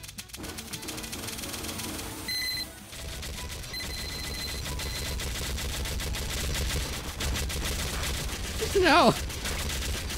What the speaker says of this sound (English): They're like firing shotgun bursts.